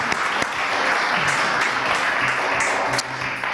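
Audience applause in a French TV studio news show, a loud, steady wash of clapping from a crowd lasting several seconds with occasional sharper claps standing out.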